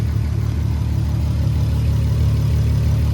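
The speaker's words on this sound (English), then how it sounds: "A very good running engine." A wagon's car engine idles smoothly after an intake manifold replacement and a vacuum leak repair, a loud, steady low hum close by, even and uninterrupted, with no talking.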